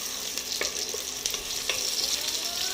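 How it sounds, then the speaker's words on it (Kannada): Chopped onion and four or five garlic cloves fry in a pan for a sprouts sambar masala, giving a steady, bright, close sizzle with a few crackles and no voices. "ಈಗ ನಾವು ಮಸಾಲೆಗೆ ಒಂದು ಈರುಳ್ಳಿ ಮತ್ತು ಒಂದು 4-5 ಬೆಳ್ಳುಳ್ಳಿ ಹೆಸರನ್ನು ಹಾಕ್ಕೊಂಡು ಫ್ರೈ ಮಾಡ್ಕೊತಿದ್ದೀನಿ"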